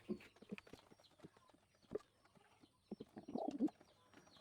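Pigeons in a coop give soft, faint coos and rustles, scattered across a quiet space and building into a brief busier burst near the end, with no voices.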